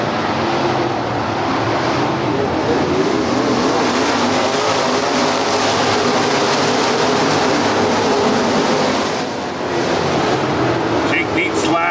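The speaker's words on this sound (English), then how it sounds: "Lambert leads the field down the backstretch ahead of Bort, Dembowski, and Hutera." Dirt-track race cars roar past at Lernerville Speedway, a dense continuous engine drone from the field down the backstretch, loud throughout with a brief dip near the end, under a race announcer's commentary.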